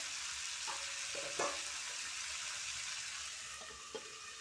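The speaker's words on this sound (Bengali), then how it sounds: "এটা ভালো করে নেড়ে চেড়ে রান্না করে নিতে হবে।" String beans frying in a pan with soft stirring scrapes and a few light clinks, steady low sizzle throughout, close and fairly quiet, no voices.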